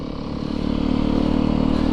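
A motorcycle ridden in too high a gear, its engine laboring with a steady low droning rumble and rapid rhythmic clatter of the chain slapping, building in loudness over the first second and then holding close and constant.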